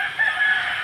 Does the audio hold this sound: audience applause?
no